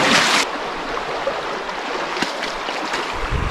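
Creek water rushing through a diversion tunnel at an old osmiridium mining site in Tasmania, a steady close hiss and gurgle of flowing water with a brief louder splash at the start.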